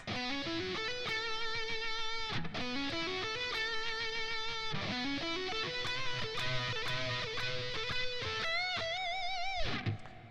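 Electric guitar plays short bluesy solo licks, with bends and repeated phrases, clear and close with no talking.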